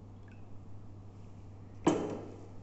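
Water is poured into a narrow drinking glass: one short, quiet splash, then a fading trickle in an otherwise still room.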